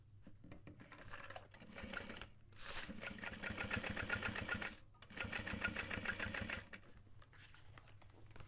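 Domestic sewing machine running a seam on an Emma backpack, a fast mechanical chatter in several bursts separated by short pauses, close but fairly quiet.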